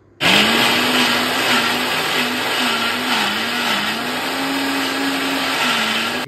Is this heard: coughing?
no